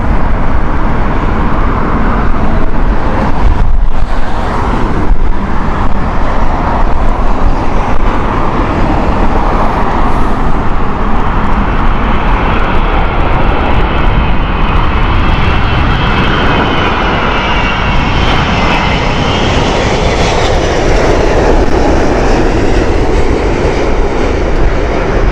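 An Emirates Airbus A380-800 jet at Heathrow Airport roars steadily and loudly throughout, its broad engine noise swelling slightly as it passes near, with a rising whine near the end and no talk.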